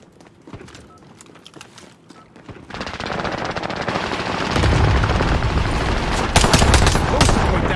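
Gunfire in the video game Call of Duty Warzone, Rebirth map: scattered, fainter shots at first, then loud, sustained automatic bursts that intensify toward the end.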